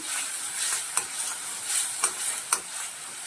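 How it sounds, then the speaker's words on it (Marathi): Green chili paste being sautéed for a spicy spinach and pea curry, a steady close sizzle with a few sharp spatula scrapes against the pan. "हा परतून घ्यायचा आहे."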